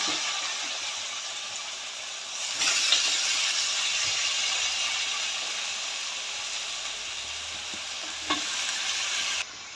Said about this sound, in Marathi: सगळ्या भाज्या चिरून एकत्र धुवून फोडणीमध्ये टाकायच्या ह्याला छान असं परतून घ्यायच्या भाज्या